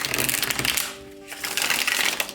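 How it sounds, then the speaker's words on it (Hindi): Tarot cards being shuffled for a Capricorn reading, heard close up as crisp, rapid riffling flutters in two bursts with a short pause between them, with no talking. "तो चलिए शफल कर लेते हैं कैप्रिकॉर्न मकर राशि के लिए।"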